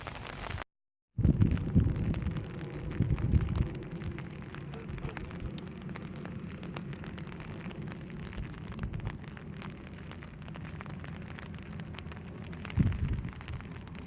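Rain falling at sea off Incheon: a steady, close hiss with a dense low rumble beneath it that continues evenly throughout, broken only by a brief dropout near the start. No voices are heard.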